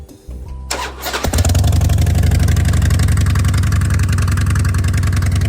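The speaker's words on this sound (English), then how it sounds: "I'm gonna go ahead and give it a little cold start." A Harley-Davidson motorcycle cold-starts: starter whir, then the engine catches and settles into a loud, close, lumpy idle.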